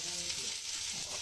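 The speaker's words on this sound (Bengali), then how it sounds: "এবার আর একটু তেল দিয়ে পেঁয়াজগুলো ভেজে নেব" Sliced onions sizzle steadily in hot oil in a home kitchen pan while dried fish is being prepared, a dense continuous frying hiss with light stirring and no voices.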